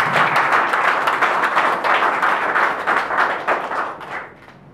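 Guests at a civil wedding ceremony in Gabon applaud in a dense, lively burst of clapping that holds steady for several seconds before tapering off toward the end.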